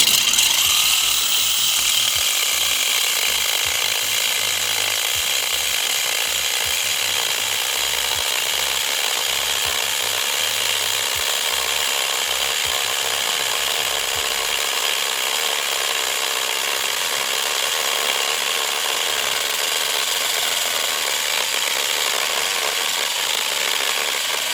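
A Fischer C1600N dry core drill bores steadily through hard material, giving a continuous bright grinding and rasping whine that holds even and loud for the whole stretch, with no talk over it.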